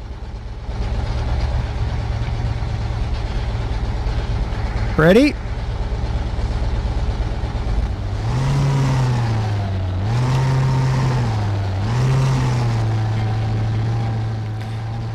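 A Dodge Ram 3500 in the Spin Tires off-road game revs its engine in a few rising and falling surges during the second half, after a brief question from a voice and a short whoosh near the start.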